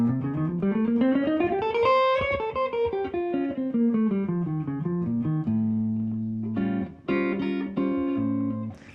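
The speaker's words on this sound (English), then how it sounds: "So A altered sounds like this." A clean guitar runs up and then back down the A altered scale in quick single notes, ending on a few sustained chords, with no voices.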